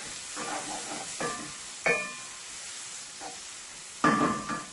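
Guyanese shrimp curry mixture cooking in a pot, a soft close sizzle and hiss broken by a few short bursts of stirring and scraping, with no one talking.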